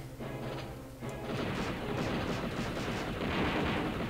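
Turret gunfire in the video game Star Wars: Shadows of the Empire, a dense continuous roar of blasts and explosions that swells after a brief lull, loud and with no speech.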